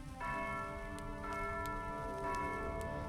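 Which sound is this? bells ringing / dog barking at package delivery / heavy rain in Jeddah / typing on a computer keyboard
bells ringing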